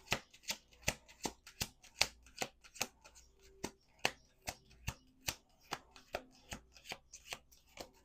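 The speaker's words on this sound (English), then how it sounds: "One more shuffle." A deck of playing cards is shuffled in a quiet room, with roughly twenty crisp riffling bursts coming in a steady, close rhythm and no one talking.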